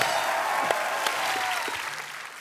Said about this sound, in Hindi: और एक बार जोरदार तालियां रणबीर कपूर